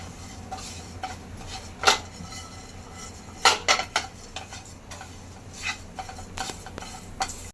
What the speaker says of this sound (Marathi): आपले मसाले पण भाजत आलेत आणि खोबरं पण भाजत आले